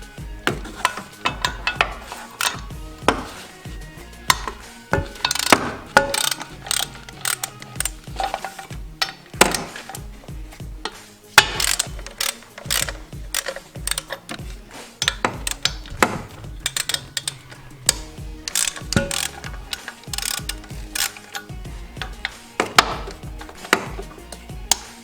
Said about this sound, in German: Ich mache das mit einer 16er Langnuss.